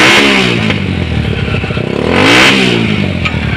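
Motorcycle engine revved hard to high RPM while the exhaust is checked for backfiring, a loud close roar that rises and falls in repeated surges with rattling clatter.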